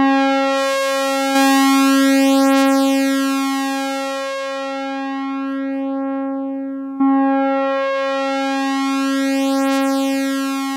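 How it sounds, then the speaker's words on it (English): Sequential Circuits Pro-One analog monosynth holding a bright, buzzy sustained note while its filter envelope sweeps the tone slowly darker and then open again, restarting twice. "now we're getting some of that very characteristic analog filter sweep type of thing"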